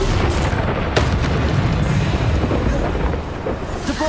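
A Bombarda spell in Hogwarts Legacy lets off a heavy booming blast that rumbles and decays over several seconds, loud and up front and mixed with game effects, with no speech.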